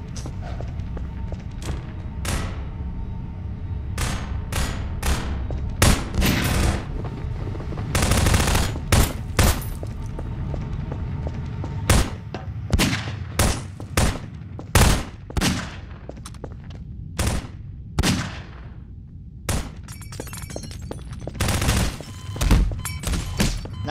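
Gunfire in the Garry's Mod Guess Who gamemode: loud, rapid automatic bursts and scattered single shots crackle continuously, with brief pauses and heavy thuds between volleys.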